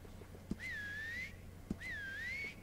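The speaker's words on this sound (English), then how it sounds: "that definitely sounds like my whistle because I can't fucking whistle at all" A character's whistle from the Western video game Red Dead Online: two short rising-then-wavering whistled notes, each preceded by a soft click, over a quiet background hum.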